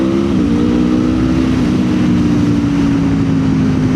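A 2026 Aprilia Tuono V4 Factory motorcycle accelerates hard, its V4 engine holding a loud, steady, throbbing drone close by, with wind rush underneath and a brief dip in pitch early on.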